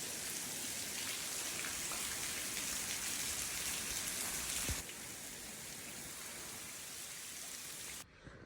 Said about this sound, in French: je suis déjà à l'abri de la pluie